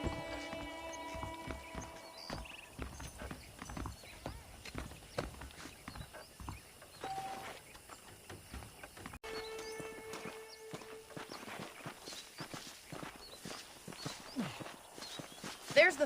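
Horse hooves clip-clopping at a walk in the Western video game Red Dead Redemption, a soft continuous patter beneath game dialogue and ambient music.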